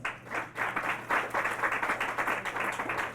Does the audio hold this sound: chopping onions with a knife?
no